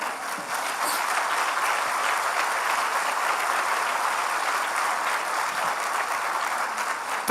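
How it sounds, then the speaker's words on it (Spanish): A church congregation gives a sustained round of applause to the Lord, a thick, steady roar of many clapping hands filling the room for several seconds without speech. "Denle un aplauso al Señor."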